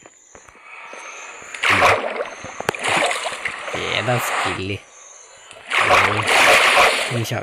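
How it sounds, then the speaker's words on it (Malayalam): Water splashing in the Minecraft video game, several loud splashy bursts of a few seconds each, separated by quieter gaps, with a person talking over them. "വെള്ളത്തിൻ്റെ ശബ്ദം ഭയങ്കര കൂടുതലായിരിക്കും"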